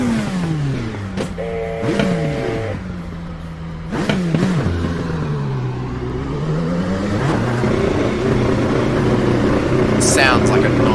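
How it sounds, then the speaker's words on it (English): A race car engine in the iRacing sim rises and falls through revving gear changes, loud and continuous, with someone talking over it throughout. "Sounds like a nice car to drive."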